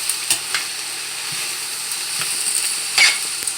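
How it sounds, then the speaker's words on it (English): Soft, steady sizzling of onions and cabbage frying in a pan, with occasional light clicks and scrapes of stirring. "You can hear it sizzling, you can hear it beginning to pull the moisture from the cabbage"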